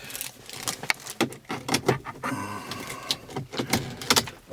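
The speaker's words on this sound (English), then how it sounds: "I've got 2 master keys, which I will show you just for the record" Two Mercedes-Benz master keys for a 2014 CLA250 4Matic jangle in a series of bright metallic clinks and rattles, close and fairly quiet, in irregular bursts with no talking.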